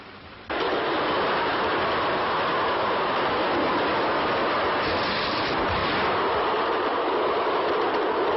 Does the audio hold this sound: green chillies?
no